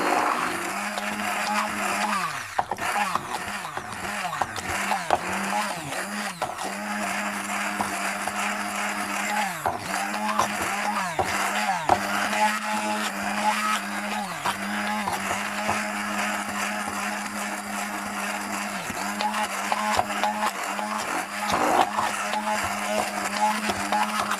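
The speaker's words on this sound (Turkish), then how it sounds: "kekimizi blender ile yapıyoruz arkadaşlar" A blender whirs steadily for a long stretch, its motor droning loud and continuous with repeated surges and pitch dips as thick carrot cake batter with hard carrots churns.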